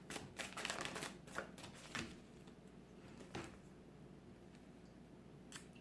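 Tarot romance cards are shuffled in soft, quiet flutters and riffles. Scattered light taps and card snaps follow, fading into low background hiss, with no talk.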